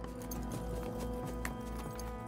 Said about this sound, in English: I got a red horse.